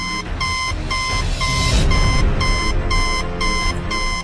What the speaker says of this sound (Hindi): मशीन में से एक आवाज आने लगी। उसके अंदर एक लाल बत्ती जल रही थी, और वो जोर जोर से बीप कर रही थी।